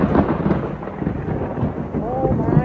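Rain beginning during a thunderstorm, with continuous rumbling thunder and steady rainfall close by throughout, fairly loud, with no talking.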